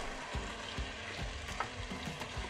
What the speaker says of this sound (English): I'm going to start mixing my vegetables up in here.